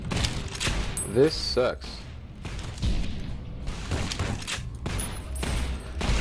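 Gunfire in the video game Fallout New Vegas, fired with armour-piercing and explosive rounds. It comes as repeated bursts of shots and booms under and between a player's speech.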